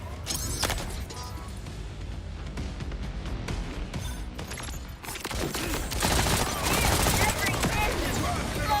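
Rapid gunfire from the Borderlands 4 video game, with dense automatic bursts and impacts running the whole time. Loud chaotic shooting dominates, building toward the end, and a voice can be heard beneath it.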